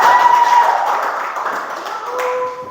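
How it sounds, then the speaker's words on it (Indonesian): A group of people in a classroom lesson clap their hands together in a steady, fairly loud burst of applause that carries on throughout, with a faint tone running beneath it. "Tepuk tangan kalau begitu kita semua."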